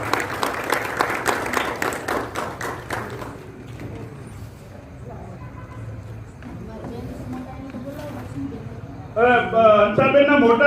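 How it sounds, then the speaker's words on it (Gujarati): Audience applause at a retirement ceremony for a government senior clerk: a dense burst of clapping for about three seconds, then murmuring voices and talk, with a loud tonal musical passage at the end. "જોરદાર તાળીઓથી બિરદાવીએ"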